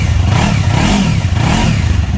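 A 2015 Yamaha YZF R3 parallel twin fitted with a Coffman exhaust revs up and down in close, loud swells, with a gruff, throaty note rising and falling in a repeating wave.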